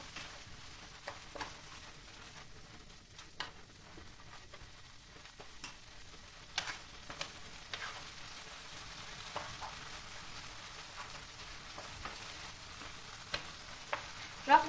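Tomato paste frying in a pan with olive oil for a pasta main dish, a soft continuous sizzle with scattered faint crackles and stirring taps, low and steady throughout.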